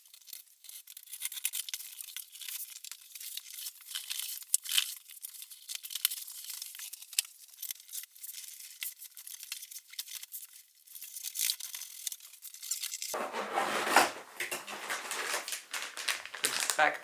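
Packaging for a Yikong YK 4082 1/8-scale Jeep Rubicon JL RC crawler being torn and crinkled open, with scattered ripping and rustling bursts throughout and a louder, fuller tear near the end.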